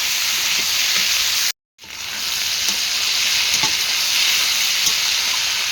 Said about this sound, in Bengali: হলুদ দিয়ে নাড়াচাড়া করে, বেশি নাড়াচাড়া করবো না, যেহেতু ভাজা সবজিগুলো সব ভাজা